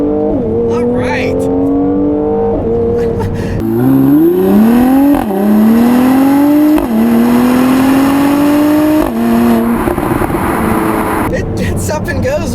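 A 2017 Mercedes-AMG GLC 43 Coupe with a 3-liter bi-turbo V6 accelerates hard in Sport Plus mode on a straight road, its engine note climbing in pitch through several sharp upshifts, heard from inside the cabin with a brief exclamation.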